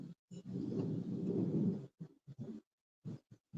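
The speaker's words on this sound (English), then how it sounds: "Did y'all hear that thunder?" Thunder rolls as a low, rumbling swell lasting over a second, followed by several shorter, softer grumbles, faint and alone with no voices.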